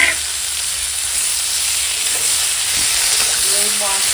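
Loud, steady sizzling of ridge gourd and papaya frying in hot oil with whole spices, a constant hiss with a few faint clinks near the end.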